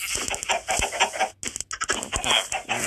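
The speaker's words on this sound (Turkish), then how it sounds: "bak bunun içinden tavuk çıktı" A chicken in a video game clucks in quick, choppy bursts. The clucks sit close and clear, with a short pause midway and no talk over them.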